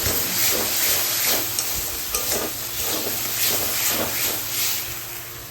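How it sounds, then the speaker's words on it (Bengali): Food frying in a large amount of oil during home cooking, a steady broadband sizzle and hiss with faint stirring scrapes, continuous and close throughout, with no talking. "ভাজা হচ্ছে, তেল বেশি।"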